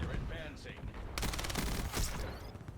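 Rev SMG firing in Black Ops 7, a fast-rate burst of gunfire that cuts in partway through and stays loud, with chatter and game sound around it.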